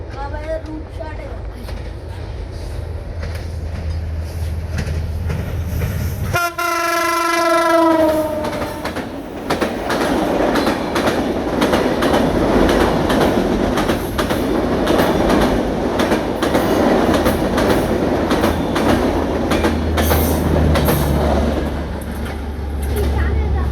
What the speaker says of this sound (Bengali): আপনাদের রেল এখনই চলে আসছে